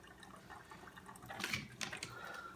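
Water trickles through a Sawyer filter into a container in a soft, steady stream, quiet and close, with faint splashy surges near the end.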